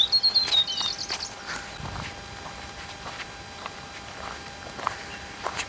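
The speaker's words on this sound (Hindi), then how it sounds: "चिड़ियाओं की आवाज़ सुनो मेरे पीछे की" Small birds chirp in green hills along a village walking path, with a few quick high calls at the start and then faint scattered chirps over quiet outdoor ambience and soft steps.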